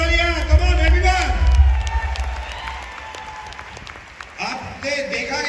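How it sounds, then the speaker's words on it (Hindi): Audience applause and clapping at a Vestige network marketing company stage event, a broad wash of many hands with crowd noise that swells early, fades in the middle and picks up again near the end. "एक बार जोरदार तालियां"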